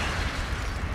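An explosion in the arcade shooter The House of the Dead 2, a short dense rumbling blast that fills the brief moment at a steady loud level.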